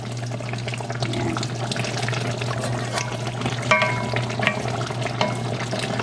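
Pork asado simmering in a pan is stirred, giving a steady close sizzle and bubbling with scraping spoon clicks against the pan over a constant low hum.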